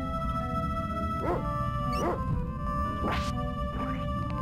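A dog barks and yips in the SNES action role-playing game Secret of Evermore, four short rising cries spaced across a steady synthesized music bed.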